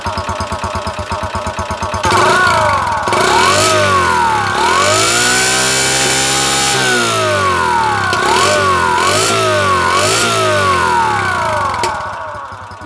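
A modified motorcycle engine tuned to sound like an F1 car idles with a fast, even putter, then revs loudly in rising and falling whining sweeps, close and alone, before dropping back toward idle.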